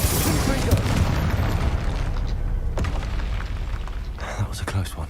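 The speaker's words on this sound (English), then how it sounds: "Confringo!" A Confringo spell explosion in Hogwarts Legacy booms loudly at the start and decays into a rumbling tail, with smaller bursts following near the end.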